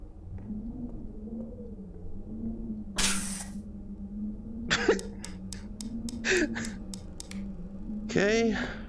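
Short hissing bursts of spray used on the baby in The Exorcist: Legion VR, several quick sprays and a longer blast spread over a low steady hum, with brief vocal sounds between them.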